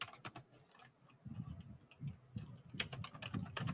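Rapid, irregular clicking of fingers typing on a computer keyboard, fairly close but quiet, with short bursts and pauses over a low background rumble.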